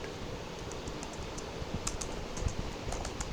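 Steady, fast clicking of keys on a computer keyboard as a command is typed, close and fairly quiet, with no speech.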